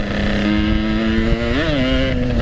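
A Yamaha RX King motorcycle running close by with a steady buzzing engine tone, briefly revved upward partway through before settling back to its earlier pitch.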